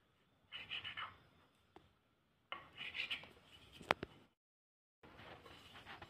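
A knife scrapes through puff pastry dough for patties in three short bursts of rasping cuts separated by silence, with a brief click on the board.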